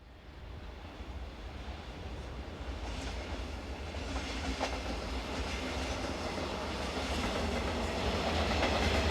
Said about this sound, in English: 146007 is an example of one of these on a stopping service bound for Meissen